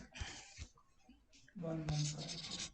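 A pen scratches across paper in short, quick strokes while cash budget sums are worked out, with a voice speaking briefly partway through.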